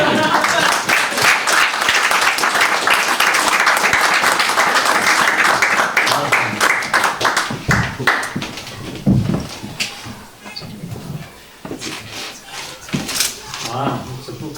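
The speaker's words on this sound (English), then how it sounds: "let's give him a big round of applause" Audience applause at the opening of the Bolton Peace & Purpose Centre on Palm Sunday, loud and dense at first, then thinning into scattered claps with talk and murmuring over the final seconds.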